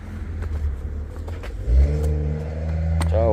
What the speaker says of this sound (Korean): 자, 이제 시동을 걸겠습니다.